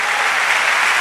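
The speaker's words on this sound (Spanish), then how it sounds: "denle un aplauso al Señor" A church congregation bursts into loud, dense applause, a continuous wash of clapping filling the whole second with no speech heard.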